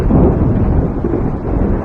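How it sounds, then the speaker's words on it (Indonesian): Thunder from lightning strikes rolls as a loud, deep rumble that swells and eases for a couple of seconds, with no voices over it. "tiba-tiba ada petir yang menyambar-nyambar."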